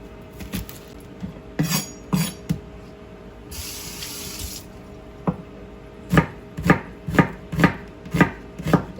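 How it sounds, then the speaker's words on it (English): A knife thinly slicing half an onion on a cutting board, a run of sharp rhythmic chops, a brief spray of running water in the middle, then a quicker, evenly spaced series of cuts, close and clear. "I have an onion that I'm only going to use half, and I'm just going to thinly slice it."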